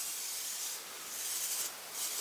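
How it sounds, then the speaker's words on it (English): Vegetable oil sprays into a crock pot in two soft, airy hissing bursts, close and fairly quiet, with no talking. "Spray a little vegetable oil on it."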